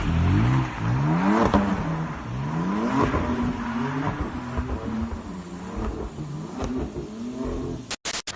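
BMW M4 fitted with a Milltek exhaust revving repeatedly, engine pitch climbing and falling in several rising sweeps, loud and close with no talking, ending in a few abrupt clicks.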